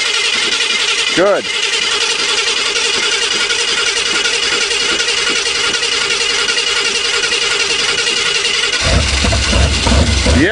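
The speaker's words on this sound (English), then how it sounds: "this time you have to pump it all the time when you're starting it" A Cadillac hearse engine without an electric fuel pump cranks and catches as the gas pedal is pumped, then settles into a steady nearby run before revving up near the end, with a brief spoken word.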